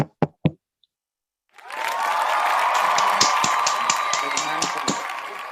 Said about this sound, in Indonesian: Beri tepuk tangan dong untuk Hermanvo.